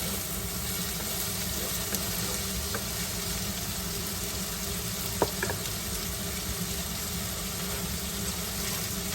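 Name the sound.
shrimp being stir-fried with onion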